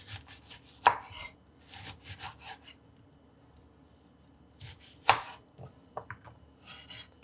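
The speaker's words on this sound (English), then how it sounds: "I'm just chopping up the lemon" A knife chops a lemon on a cutting board for chimichurri, giving two sharp, sudden thunks several seconds apart with softer scraping and handling noises between them, close and without talk.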